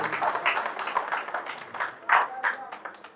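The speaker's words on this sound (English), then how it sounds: "Can we give a mighty round of applause," Applause at a student security summit for a government minister receiving an award of excellence, with sparse individual claps standing out from a thin, uneven crowd, moderately close.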